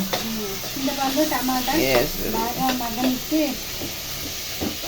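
Garlic dropped into tomato and tamarind frying in a pan, giving a steady, close sizzling hiss that runs under a person talking throughout.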